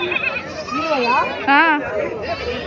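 Male goats at a village livestock market bleat in wavering, rising calls, two or three close cries standing out over a busy crowd and steady talk.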